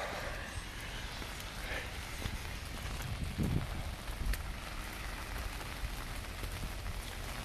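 Steady rain falls on a surface, a dense continuous patter at even loudness throughout, with no voices heard.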